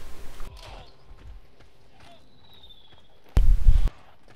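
Horse hooves in the medieval battle game War of the Roses, a quiet muffled clopping early on under game noise, then a louder burst of heavy trampling near the end.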